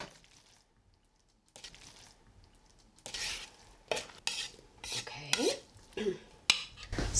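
A big spoon stirs sauce into a cauliflower casserole, giving scraping and clinking knocks against the dish in irregular bursts after a quiet start, with soft wet squelches between them.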